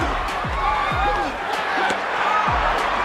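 Boxing arena crowd roaring during the Mike Tyson versus Razor Ruddock fight, a dense, sustained wash of cheering with a ringside commentator talking over it and a few thumping impacts.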